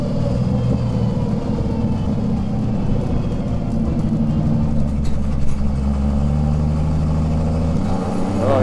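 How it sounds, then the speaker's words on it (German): A VW Golf engine held in second gear pulls at a steady, moderate rpm with a continuous loud droning rumble from inside the car, no talking over it. "nimm mal gleich einen zweiten Gang und fahr dann mal wirklich 2000 Umdrehungen"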